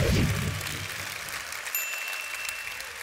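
An audience at a motivational talk applauds and cheers, a dense wash of clapping and crowd noise that starts loud and then holds steady at a slightly lower level.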